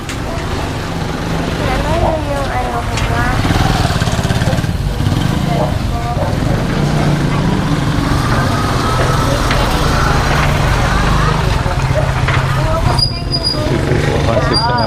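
Steady street traffic in Angeles City, Philippines, with motorbike and trike engines buzzing past continuously, mixed with distant voices and road noise throughout.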